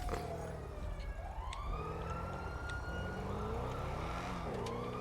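Police car siren in a video game, wailing in long rising and falling sweeps, loud and steady throughout with a low engine rumble beneath and no voices.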